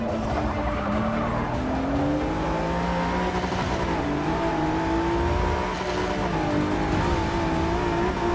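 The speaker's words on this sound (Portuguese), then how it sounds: "Esse carro Ford GT" A 2017 Ford GT race car in Forza Motorsport 6 Apex on a Rio de Janeiro circuit, its engine roaring loud and continuous as revs climb and drop through gears, with tire skid noise mixed in.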